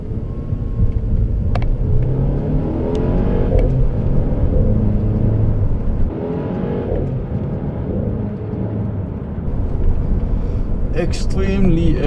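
A Mercedes C200 AMG engine accelerates hard from inside the cabin, rumbling and rising in pitch with several shifts from the paddle shifters, while a person talks over the engine noise.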